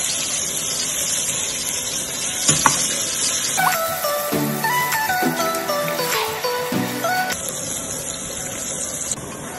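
Onion, garlic and ginger paste sizzles in a frying pan, a steady hissing fry running throughout under a brief interlude of bright tonal music.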